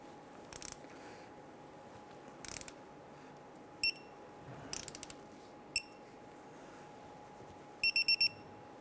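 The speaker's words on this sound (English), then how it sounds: "Torque down this bolt to 65 foot-pounds." Short bursts of ratcheting clicks from a torque wrench tightening a bolt on the steering stabilizer of a 1999-2004 Jeep Grand Cherokee, coming in separate brief clusters over a quiet background hum with no talk.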